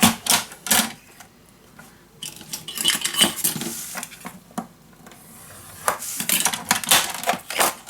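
Paper is cut for a mini album in a series of close, sharp clicks and crisp snips, irregular bursts separated by brief pauses, with no voices.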